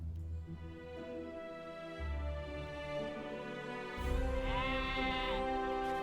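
Sheep bleat in the fantasy online game LOTRO, a series of wavering, nasal calls over steady game music and ambience, with a louder rising-and-falling bleat near the end.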